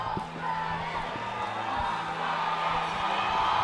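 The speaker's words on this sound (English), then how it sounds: "The crowd goes wild." A cage-fighting crowd cheers and whoops during a fighter's walkout, a dense roar of voices rising slightly toward the end, with faint music tones underneath.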